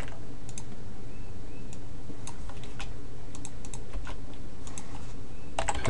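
Login details go in on a computer keyboard in a run of close, irregular key clicks with short pauses, and no voices.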